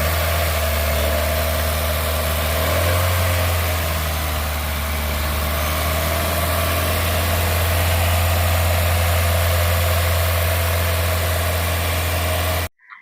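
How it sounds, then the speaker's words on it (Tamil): A Honda City i-VTEC petrol engine runs steadily and loud at close range with a slight rise in revs early on, a continuous hum and drone that cuts off at the very end; no one speaks. "என்ஜின் சூப்பராக இருக்குங்க, ஒரு குவாலிட்டியான இன்ஜினு. ரைஸ் பண்ணுற பாருங்க"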